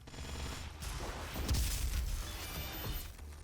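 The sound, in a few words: minigun firing in DOOM (2016) video game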